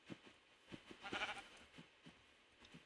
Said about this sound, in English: Here's some sheep.